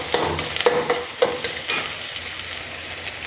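Chopped onions fry in about 50 grams of hot oil for a chicken gravy, giving a steady close sizzle broken by a few sharp clinks and scrapes of stirring.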